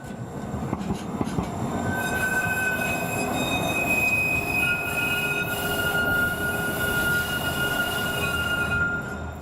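Model railway train rolling out of a platform past a homemade block signal, with continuous rumbling wheels, steady high-pitched wheel squeal and faint clicking over about nine seconds, close and fairly loud, no talk.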